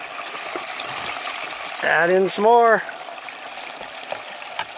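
Water runs steadily through a homemade gold sluice box in a clay pit as dirt is shoveled in, a continuous close trickling wash under a brief stretch of talk.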